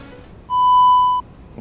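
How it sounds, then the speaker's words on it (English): An answering machine beep: one clean, loud electronic tone lasting under a second, rising sharply out of quiet background hiss and cutting off abruptly. "please leave your name and number after the beep"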